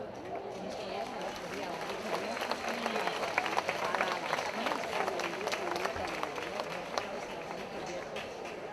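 Crowd applause at a San Fermín jota performance in Pamplona, a sustained spread of many hands clapping, moderately distant and steady, with a busy crowd murmur underneath.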